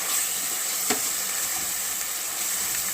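Food fries in hot oil in a pan for Telangana-style bagara rice, a steady close hiss and sizzle that runs throughout with one brief clink near the start.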